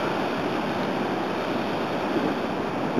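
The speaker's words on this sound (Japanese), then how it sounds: "元港なんですけど、すごい波すごいな" Big ocean waves surge and crash continuously at a former harbor, a loud, dense roar of surf with wind buffeting throughout and no talk.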